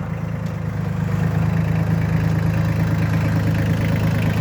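A compact Solis 26 tractor's Mitsubishi diesel engine idles steadily close by, with a low, even chugging hum and no changes in speed and no voices.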